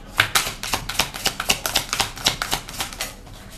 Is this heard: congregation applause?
no